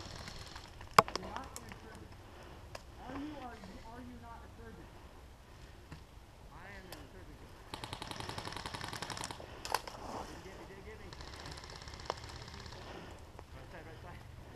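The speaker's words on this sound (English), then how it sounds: "These guys are shooting me." Airsoft guns firing during a milsim skirmish, sharp clicks and pops scattered through the clip with a denser rattling burst in the middle, while players shout and talk throughout.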